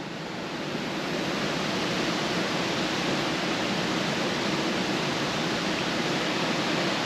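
A waterfall in the Elan Valley, Wales, roaring as a dense, steady rush of falling water that swells in the first second and then holds loud and unbroken.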